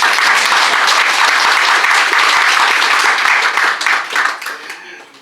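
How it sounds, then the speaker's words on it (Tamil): Loud, dense applause from the audience at a Tamil book launch ceremony, many hands clapping steadily before fading away toward the end. "இப்போ நீங்கள் கைத்தட்டினது ஆக்சுவலி எனக்கு இல்லை சவுந்தர் சாருக்கு தான்"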